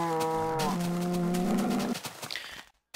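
Cows in Minecraft give several drawn-out moos close by, the calls overlapping for about two seconds before fading into quiet.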